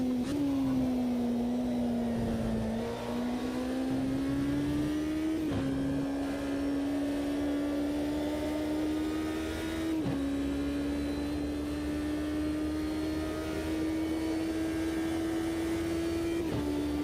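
A race car engine in the Automobilista 2 sim racing game drones steadily at high revs, its pitch dropping sharply at each of several upshifts before climbing again.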